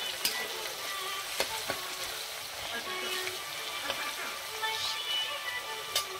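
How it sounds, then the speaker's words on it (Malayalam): Chopped garlic and ginger sauté in hot oil with a steady close sizzle, while a utensil clinks and scrapes the pan in several irregular strokes as the mixture is stirred. "ഇതിൻ്റെ പച്ചമണം മാറുന്നിടം വരെ ഒന്ന് ചെറുതായിട്ട് ഇളക്കി കൊടുക്കുക."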